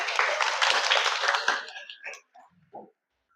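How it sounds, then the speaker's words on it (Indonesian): A seminar audience of children claps hands together in a dense burst of applause that fades out after about a second and a half, leaving a few scattered claps and faint voices. "oh, tepuk tangan."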